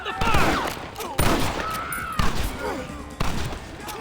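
Gunfire in the Western video game Red Dead Redemption cracks out in several sharp bursts, with shouted voices between the shots over a busy battle backdrop.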